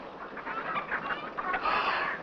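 A hen clucks and murmurs in a short run of soft, close calls over a steady noisy background, the calls growing busier toward the end.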